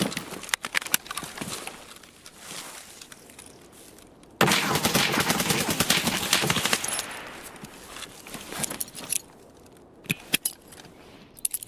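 Bursts of automatic gunfire in Escape From Tarkov, a dense rapid volley in the middle and scattered shots around it, fairly close and loud with no talking.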